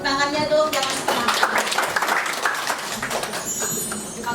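A church congregation at a Sunday worship service breaks into dense, lively clapping that starts just after a brief voice and keeps going for several seconds, with speech mixed in.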